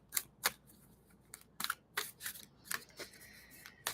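Tarot cards being shuffled by hand produce soft, close, irregular riffles and flicks in short bursts, fairly quiet with no talking.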